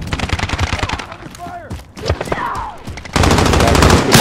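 Bursts of rapid automatic gunfire from Call of Duty Modern Warfare 2019, loud and close, broken by a short quieter stretch with voices and other game sounds, then dense firing resumes.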